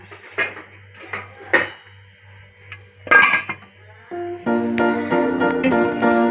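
A lid goes onto a cooking pot with a few metallic clinks and one louder clatter, followed by a steadier ringing, humming tone from the kitchen.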